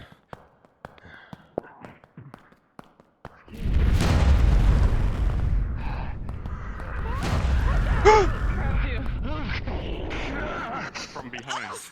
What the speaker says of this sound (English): An explosion of stone as more and more begins slamming through